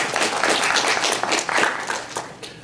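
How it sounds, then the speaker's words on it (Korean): Audience applause welcoming a professor to the podium at a 2014 Jeju Forum session on tourism, culture and horse-related industries; dense, steady clapping from a crowd, fairly loud and continuous throughout with no voices over it. "박수로 맞으십시오"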